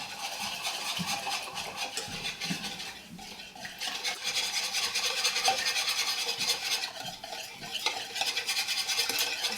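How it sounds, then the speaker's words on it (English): A whisk beats a falafel sauce in a bowl, a continuous quick clinking and scraping against the sides, close and steady with a brief slowdown partway through. "Just whisk until it's fully incorporated and nice and smooth."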